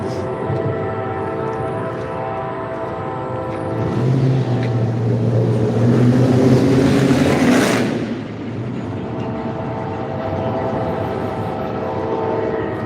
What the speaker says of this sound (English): Oh, that truck was loud and proud.